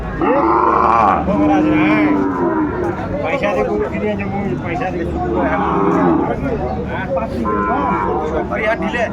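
Loud cattle mooing repeatedly among a crowd at a cattle market in Dinajpur, Bangladesh, where Sahiwal bull calves are sold, with people talking over and between the calls.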